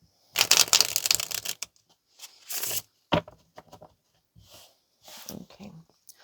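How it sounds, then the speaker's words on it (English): A deck of tarot cards is shuffled up close, a long riffling burst of card flutter followed by several shorter shuffles and taps separated by brief pauses. "Last shuffle."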